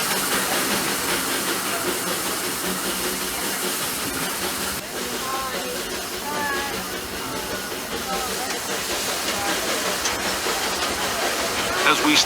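The steam locomotive Fred Gurley #3 hisses continuously as it rolls through Critter Country past Hungry Bear Restaurant, a steady broad rushing wash with faint clanks, under a narrator's voice.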